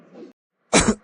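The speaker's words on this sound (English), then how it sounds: "It looks like you are coughing and vomiting." Person coughing in a public McDonald's restroom, two short, harsh, close coughs separated by a brief silence.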